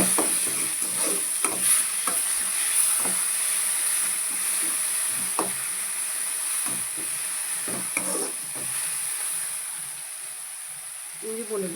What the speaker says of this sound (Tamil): இஞ்சி பூண்டு பேஸ்ட்டு பச்சை வாசனை போகிறவங்க நல்லா வதக்கிக்கலாம்.